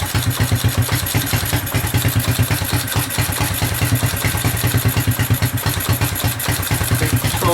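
Honda 200SX engine runs steadily with the choke on, a fast rhythmic putter and clatter that stays close and even throughout, with no one talking.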